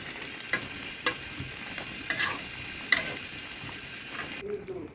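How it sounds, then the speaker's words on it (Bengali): Chicken and boiled potato pieces sauté in a pan with a soft, steady sizzle, broken by several sharp clinks of a spatula scraping and stirring against the metal. "আর একটু কষিয়ে নিব।"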